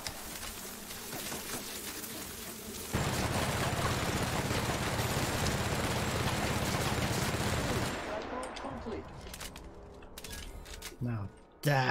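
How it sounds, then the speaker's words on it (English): Gunfire in The Outer Worlds game fills the middle stretch as a dense, loud, sustained burst of rapid shots, with quieter game sounds and a few sharp clicks before and after. "Now is a good opportunity to shoot that."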